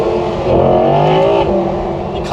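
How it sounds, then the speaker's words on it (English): An Audi R8 V10 Performance with its roof off roars loudly and steadily as the engine revs and its pitch climbs on a country B road. Wind and road rush fill in underneath, and no one speaks over it. "the roof's off, so there's no barriers of that engine noise going straight through"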